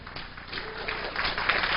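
A conference crowd at a 2002 gathering rises to cheer and applaud Eustace Mullins, a dense, steady wash of clapping and shouting for nearly two seconds.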